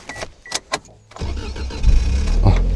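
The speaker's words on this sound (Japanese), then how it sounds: "一旦エンジンかけます。" A used kei camper van in heavy snow and strong wind: a few clicks and taps, then the engine cranks and catches, settling into a loud, steady idle close by.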